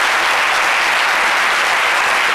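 Loud, dense applause for Hassan Hayek during an interview, a short burst of many hands clapping steadily at close range with no talk over it.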